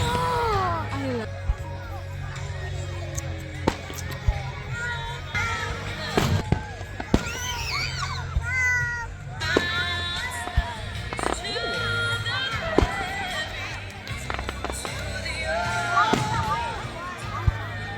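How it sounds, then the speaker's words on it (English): Fourth of July fireworks show at Woodland High School in Woodland, California, with repeated booming bursts and crackles at irregular intervals, some near and loud, under steady crowd chatter and people talking nearby. "It's a big fireworks."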